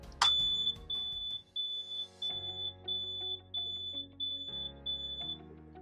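A high electronic beeping alarm marking the end of a kidney treatment sounds in a steady series of short pulses, with a low mechanical hum and clunks underneath.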